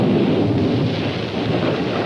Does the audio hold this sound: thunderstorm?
yes